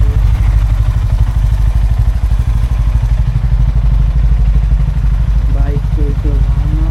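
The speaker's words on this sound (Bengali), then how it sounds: "এইখানে বাইকস ওয়ার্ম আপ হচ্ছে।" Motorcycles warming up at 4:30 in the morning before a long bike trip from Kolkata to Ujjain, a steady loud idling engine rumble with rhythmic low-end pulsing and faint clatter throughout.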